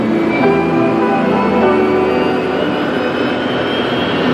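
An airplane jet engine spools up with a steady, loud, continuous roar and a rising whine held throughout.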